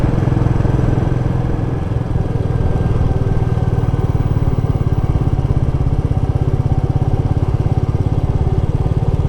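A Royal Enfield Meteor 350 motorcycle pulls steadily in third gear, its single-cylinder engine thumping in a continuous loud, even rumble with constant wind and road noise and no voices.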